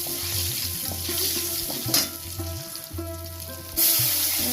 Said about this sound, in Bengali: পেঁয়াজটা একটু লাল লাল করে ভাজা হোক,